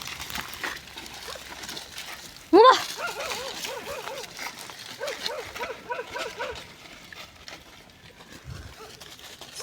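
A dog outdoors in a hilly village gives a quick bark, then a run of short, high repeated whines and yips at moderate distance, with faint talk in the background.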